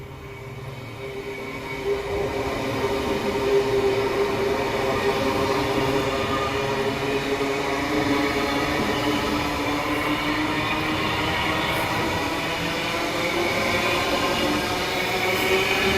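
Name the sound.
Brisbane City and Manly train arriving on platform 1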